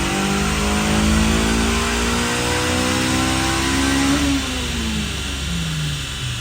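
Honda CRX with a hydro transmission conversion, its engine revving hard and steadily through the RPM range, loud and close with a rising then settling tone and no talking.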